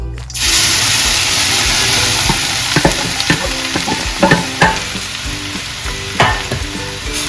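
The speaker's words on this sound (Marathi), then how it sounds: "आपण हा चांगला आता तुपामध्ये परतून घेऊया।" Grated carrot sizzles loudly in hot ghee, a dense, close frying hiss that starts abruptly and continues throughout, broken by repeated scraping and stirring knocks in an irregular rhythm.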